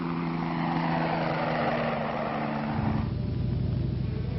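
A low, slow-flying spraying helicopter drones loudly and continuously, its engine whine and rotor thrum holding steady before the pitch shifts and the chopping beat becomes pronounced.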